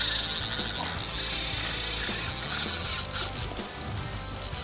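Fishing reel cranked fast during an aggressive high-speed jig retrieve for kingfish, a steady close mechanical whirring and ratcheting that runs continuously with no talk.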